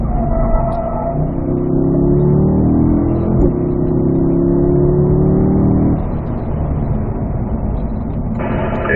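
Car accelerating during a lap of the Spring Mountain North Course race track, engine rising in pitch through gears with a shift partway, loud and close, no voices.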